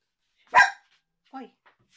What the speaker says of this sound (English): The people don't need to hear you barking, do they?